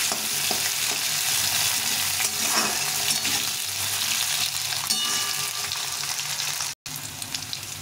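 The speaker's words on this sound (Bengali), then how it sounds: "আলুটা ভেজে নেব হালকা করে" Potatoes fry lightly in an oiled pan with a dense, even sizzle and occasional stirring scrapes, close to the listener, then a sudden brief cutout near the end before the sizzle resumes.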